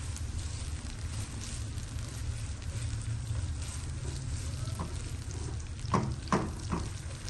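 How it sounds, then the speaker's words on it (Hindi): Onions fry until brown in a pan for vegetable pulao, making a soft, continuous sizzle, with a few louder stirring scrapes near the end. "सिर्फ प्याज ब्राउन होने में थोड़ा सा टाइम लगता है।"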